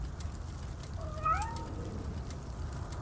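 A short, faint meow from a cat in RoboCop: Rogue City rises briefly out of a steady low background hum of the game's street ambience.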